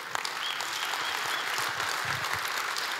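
A church congregation claps hands together in steady, dense applause that fills the room throughout, with no pauses.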